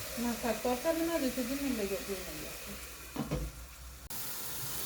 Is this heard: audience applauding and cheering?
no